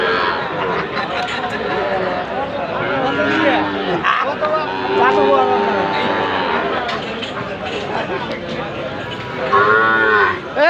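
Cattle, young bulls and calves, moo repeatedly, long and loud, amid a crowd's chatter and people talking close by at Ambari cattle market.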